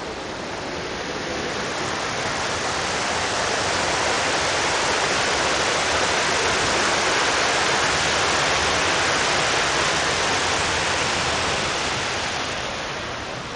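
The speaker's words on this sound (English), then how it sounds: "This is the waterfall." Lakeside waterfall used to aerate water for fish, a loud constant roaring rush of falling water, broad and steady throughout with no pauses or voices.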